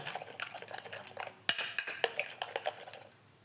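Spoon scraping and clinking in a bowl while a fruit mixture is mixed, a busy run of soft scrapes followed by a sharper clatter and repeated stirring knocks that fade toward the end.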